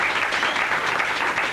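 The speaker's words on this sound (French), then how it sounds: "Acclamez très fort." An audience at a prosperity seminar applauds steadily, a dense wash of clapping that stays level and sustained without a break.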